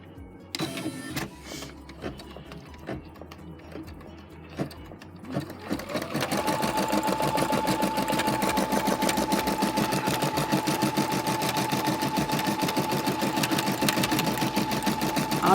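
A Brother SE 400 embroidery sewing machine stitches steadily and close by, a fast rapid whirring patter that starts after a few seconds of quieter handling noises and then runs continuously without talk.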